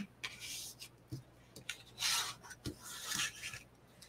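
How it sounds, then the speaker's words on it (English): Cardstock being folded and creased for a card, a few soft rubbing and scraping strokes with light taps, close and quiet, with no talking. "I'm going to fold it on and crease it on the four and a quarter and then on the three and quarter inch side"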